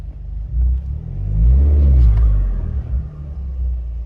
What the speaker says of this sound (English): Definitely a little bit more intake noise as it spools.